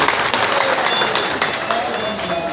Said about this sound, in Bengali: কমিটির জন্য একটু হাততালি দিতে